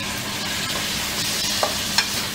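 Tomatoes go into a hot pan for sarson da saag and a constant loud sizzle fills the clip, broken by a couple of short utensil clicks; no speech.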